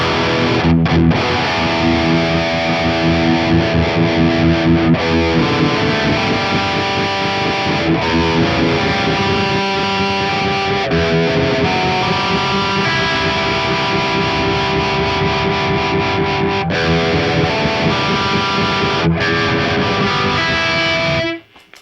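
A distorted electric guitar plays chords and notes through a Flint amplifier with heavy effects, sustained and loud for the whole stretch before stopping abruptly.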